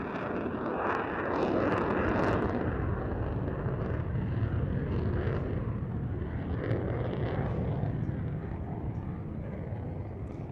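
A Swiss Air Force single-seat F/A-18C Hornet on a flying display at an airshow produces a continuous loud, rumbling jet roar that swells and eases slightly as it passes, heard from a distance.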